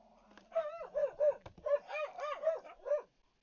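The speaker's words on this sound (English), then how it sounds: "you're gonna hear the dogs decide to go off" Dogs bark repeatedly at moderate distance in a home garage setting, a steady run of about eight rhythmic barks with a brief gap midway.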